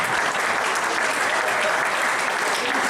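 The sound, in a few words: audience applause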